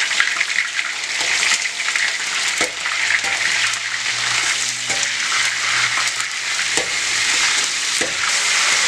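About 100-150 grams of meat for Turkish kavurma sizzling and frying in a hot pan, a steady bright hiss with occasional crackles and light stirring scrapes, close and alone.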